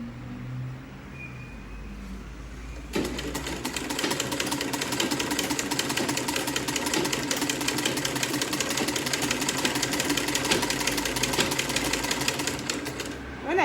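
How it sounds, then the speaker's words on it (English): A sewing machine runs steadily, stitching down corset boning on a corset dress, as a fast, even mechanical whir that starts abruptly after a few seconds of quiet and continues to the end. "As you're sewing, make sure you are aligning your boning on the line."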